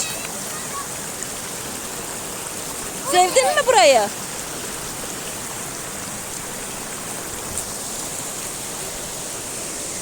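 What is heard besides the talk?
waterfall at Aladağ Yedigöz, Adana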